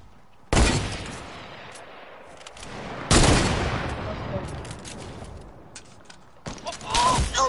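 Gunfire in a video game, three sharp bursts of shots spaced a few seconds apart, each trailing off into a noisy game soundscape, with faint talk underneath.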